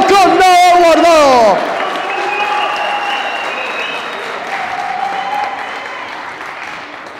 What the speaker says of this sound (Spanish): quiero pedir un fuerte y caluroso aplauso para estos dos guerreros del cuadrilátero